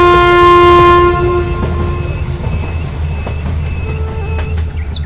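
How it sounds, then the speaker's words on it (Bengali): A cartoon train pulls into a station, its loud horn blaring steadily over a deep rumbling engine that keeps rolling on as the horn cuts off, with faint clanks near the end. "পর ট্রেন ধরার জন্য চলে আসে স্টেশনে"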